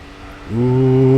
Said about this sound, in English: we are driving a BMW Z4 for this.